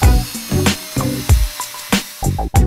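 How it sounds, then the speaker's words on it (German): A cordless screwdriver drives a hook screw into a wall plug while a hanging chair is being mounted, its motor whirring close by in several short, separate bursts with brief pauses between them. "Nach dem Einsetzen der Dübel kannst du zum Festschrauben des Hakens natürlich auch einen Akkuschrauber"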